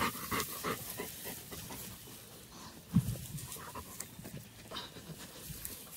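An excited dog pants nearby in quick, steady breaths that continue throughout, with one soft thump partway through.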